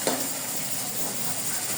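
Pansit canton frying in a pan for breakfast, a steady close sizzle and hiss with faint stirring and utensil scrapes throughout, no talking.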